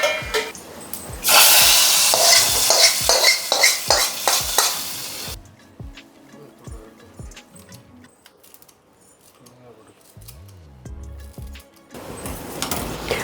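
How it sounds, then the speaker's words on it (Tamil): Mustard seeds, cumin and dried chilies temper in hot oil, a loud sizzle in the opening seconds under a series of regular sharp taps and stirring clicks that continue after the frying fades. "கடுகு, சீரகம், காஞ்ச மிளகாய் வேணுனாலும் ஒரு 2 தாளிச்சிக்கோங்க"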